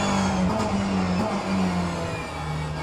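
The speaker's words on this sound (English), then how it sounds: "Oh, as the cars are flying by." Race cars in the rain at a WEC endurance race roar past, engine notes rising and shifting as each car passes close by, over a steady wash of spray and track noise.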